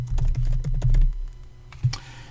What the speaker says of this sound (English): I'm going to again type my name for the author